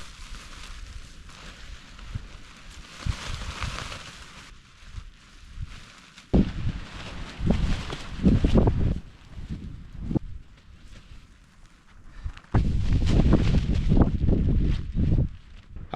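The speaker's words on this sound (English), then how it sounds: "Now this wind is only going to get stronger" Strong wind gusting across a New Zealand mountainside, roaring and buffeting close to the microphone in uneven surges, with loud blasts building around the middle and again toward the end.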